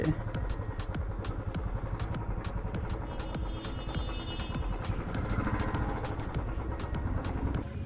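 A motorcycle rides slowly toward a parking spot near a forest resort, its engine giving a low, steady rumble with a rapid pulsing beat, close and continuous with some rattling clatter.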